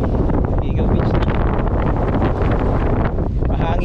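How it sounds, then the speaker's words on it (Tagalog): Strong wind roars steadily across the microphone at Eagle Beach, Aruba, a loud continuous buffeting rush with a faint wash of surf beneath. "Mahangin."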